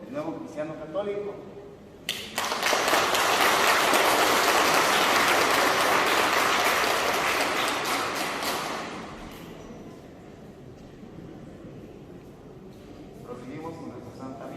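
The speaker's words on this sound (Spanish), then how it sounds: "Vamos a darle un fuerte aplauso a Diego, el nuevo cristiano católico." Sustained applause from a church congregation welcoming a newly baptized Catholic during a traditional wedding Mass in San Juan Mixtepec, rising loudly, holding for several seconds, then tapering off as voices return.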